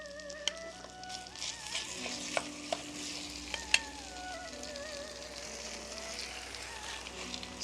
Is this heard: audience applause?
no